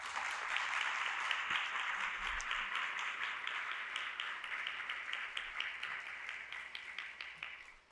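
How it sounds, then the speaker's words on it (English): Steady applause from a seated audience honoring staff at a conference session, dense clapping from many hands that holds for several seconds before thinning out at the end. "I would love for the staff to stand up and get a nice round of applause"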